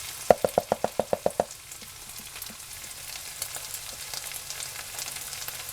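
Beef and gravy are stirred in a pot. A utensil first raps the rim eight times in quick, even succession, then a soft continuous stirring and sizzling follows. No one talks.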